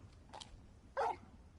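Torgal, a large dog in the video game Final Fantasy XVI, gives a soft short yip and then a louder single bark, fairly close over a quiet background.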